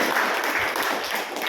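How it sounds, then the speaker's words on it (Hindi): Clapping hands from an audience at a devotional talk, a brief steady burst of many people applauding together, fairly close and loud with no speech over it. "जोरदार हाथों से तालियां आप सबके लिए"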